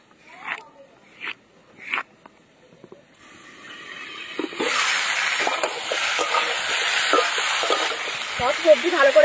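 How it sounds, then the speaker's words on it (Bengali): Radish, potato and carrot seasoned with salt and turmeric are stirred in a pan, with a few scraping strokes first, then a continuous loud sizzle under repeated clattering stirs close by. "সব সবজি ভালো করে ভেজে নিয়েছি,"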